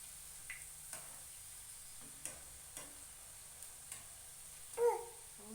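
Bread vada pieces frying in hot oil, with a soft, steady sizzle broken by a few light ticks and small pops, and one louder burst of bubbling near the end.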